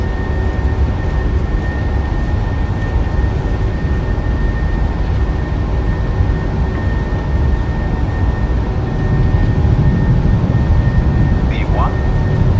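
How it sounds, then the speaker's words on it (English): Airliner engines at takeoff thrust in a flight simulator, a steady loud broadband roar with a faint constant whine, sustained throughout with no clear change. "Stabilized, set takeoff thrust."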